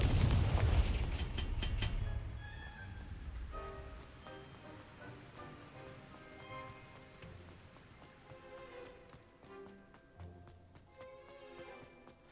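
A Confringo blasting curse goes off with a deep, booming burst in Hogwarts Legacy, and the rumble trails away into scattered debris and crackling.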